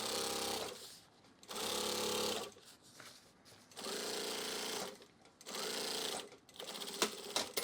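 An industrial sewing machine stitches heavy duffle fabric in four loud, steady runs, separated by short pauses, with a brief stuttering burst at the end.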